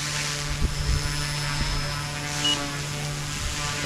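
An OMP M2 MK2 RC helicopter flies in strong wind, its rotor giving a steady whirring drone with a constant hum throughout, buffeted by gusts and a few faint thumps.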